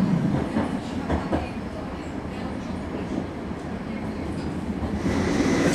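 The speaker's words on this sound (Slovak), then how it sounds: "Za nami sa blíži jedna z mojich najobľúbenejších električiek" An approaching tram, a favourite among the city's trams, rumbles steadily from behind with a broad low-frequency roar that builds slightly toward the end, with no clear wheel clatter standing out.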